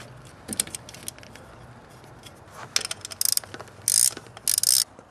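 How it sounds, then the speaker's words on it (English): Wires pushed onto the terminals of three newly fitted glow plugs for a heated LPG evaporator. Close metallic clicks and scraping build into a few short, sharp clustered snaps near the end, with no talking. "and now I'll put the wires on"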